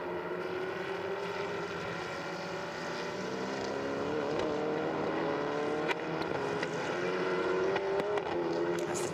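Endurance prototype race car, the number 28 of CD Sport, entering the pits at Paul Ricard during a six-hour race, a steady engine drone with other cars passing in the background throughout.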